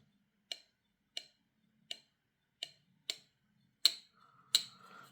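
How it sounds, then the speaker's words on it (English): The detent of a YangGe YG005 folding knife clicks as it is flicked, giving sharp, isolated clicks spaced about half a second apart, close and crisp in a quiet room, with the last couple slightly louder. "You can hear it clicking in there."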